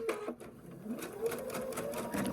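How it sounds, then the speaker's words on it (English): A sewing machine stitches fabric pieces together in a quick, close run of rapid mechanical clatter lasting a couple of seconds. "And we're going to quickly sew this together here."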